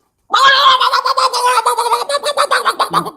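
A duck lets out a loud, close, raspy call that breaks into a quick stuttering series of honking pulses, heard alone with no talk.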